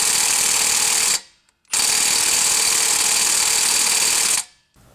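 A Milwaukee M18 Fuel 2754-20 impact wrench on car lug nuts hammers loudly in two long continuous bursts, separated by a short pause and ending abruptly.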